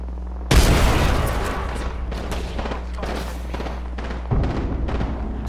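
Two heavy booms and a thick wash of gunfire from a firefight in the Apex Legends video game, with a frag grenade blast rolling out loud and close amid sustained shooting and rumble.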